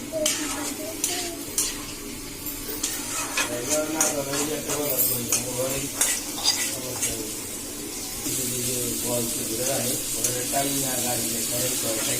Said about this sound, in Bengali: পেঁয়াজটা বেরেস্তা করবো ভেজে